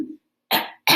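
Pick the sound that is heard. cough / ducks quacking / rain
cough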